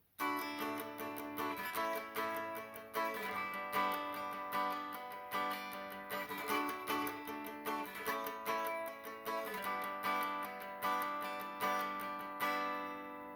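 Guitar playing the pre-chorus of a song, steady strummed chords in a regular rhythm with bright, dense tone, fairly quiet but continuous for the whole stretch, no talking.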